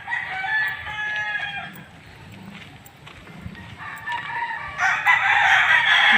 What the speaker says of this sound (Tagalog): Daming manok doon.